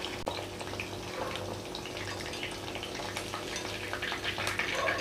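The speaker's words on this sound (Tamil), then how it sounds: "பக்கோடா சூப்பராக வெந்துட்டுருக்கு" Mutton pakoda sizzles as it fries in a pan of oil, a steady, close, crackling hiss with no one talking.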